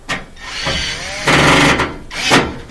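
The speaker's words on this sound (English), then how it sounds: "we're just going to tighten those two screws up" Two screws are tightened on a laundry center whose tub sits off center, heard as short bursts of scraping tool and metal handling noise, close and fairly loud, with no speech.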